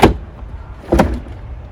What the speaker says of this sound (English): the drawer comes out as well if you wanted to